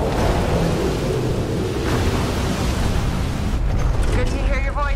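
A storm with thunder and rain in a sci-fi film scene, a dense continuous roar of wind and rain filling the clip, with a voice and radio chirps near the end.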